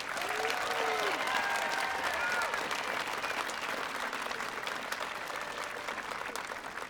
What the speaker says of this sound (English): Let's hear a round of applause for all those people.